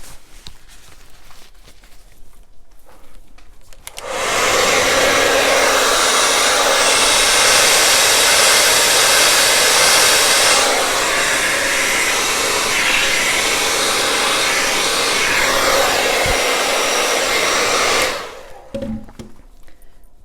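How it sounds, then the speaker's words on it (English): A blow dryer runs close and loud for about fourteen seconds over freshly poured acrylic paint in a Dutch pour, a steady broadband rush that starts abruptly and cuts off, with quieter handling noise before and after. "very carefully this time without getting my blow dryer in the paint"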